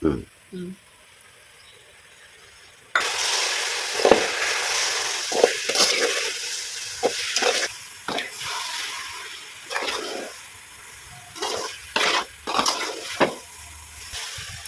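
Coconut and peanut burfi mixture cooks with ghee in a pan, a steady broadband sizzle starting after a quiet moment and continuing with bubbling pops, soft scrapes and intermittent voices.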